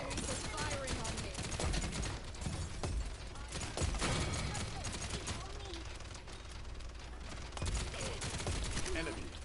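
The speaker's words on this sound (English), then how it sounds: "Enemies are firing on me." Rapid automatic gunfire from the video game Paladins, dense bursts of shots stacking up almost continuously with sharp cracks and impacts, close and loud.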